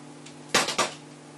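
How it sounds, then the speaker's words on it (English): A knife cuts across a woodcock's wing bone with a quick double crunch of snapping bone over a faint steady hum, loud and close, then stillness. "taking our knife, we will just cut across the bone"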